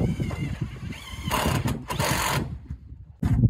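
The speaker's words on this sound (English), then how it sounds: "This is Tanya putting in the first screws." Screws are driven into greenhouse panels with a power driver, bursts of whirring and buzzing mechanism noise broken by short pauses, heard up close.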